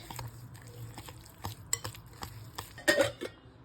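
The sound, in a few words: mixing semolina with yogurt and water in a mixing bowl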